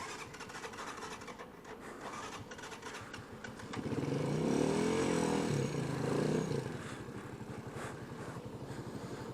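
A motorcycle engine runs with no engine oil during a ride in Mexico, giving a steady, faint clattering drone that swells louder for a few seconds in the middle and then settles back.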